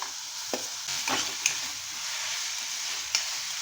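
Grated raw mango going into hot oil with cumin and whole spices for a jaggery mango preserve, giving a steady frying hiss with a few stirring clinks and scrapes.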